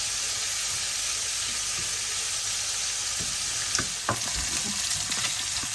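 Meat frying in a pan, a constant close sizzle with a few louder scraping stir knocks toward the end, no talking.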